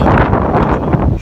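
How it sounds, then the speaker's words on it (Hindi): Strong gusty wind roars and buffets the microphone outdoors in Islamabad during a storm with light rain, giving a loud, continuous rumbling rush with uneven surges and no speech. "यहाँ पे आंधी तेज़ हवाएँ चल रही हैं और हल्की हल्की जो बारिश है वो भी आ रही है"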